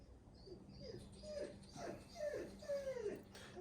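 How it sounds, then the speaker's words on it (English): A chocolate Labrador named Freddy whines nearby in a series of rising, high yelps and whimpers, growing louder toward the end, with soft background noise. "That whining noise, that's my dog."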